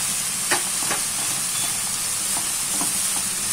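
Vegetables and cabbage stir-frying in oil for potato cutlets, a steady sizzle with scattered scraping stirs of a spoon against the pan, close and continuous.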